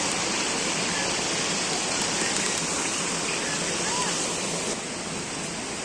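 A waterfall pours water down at a picnic spot at Panchalingeswar, a steady broadband rushing roar that stays loud and constant throughout with no break.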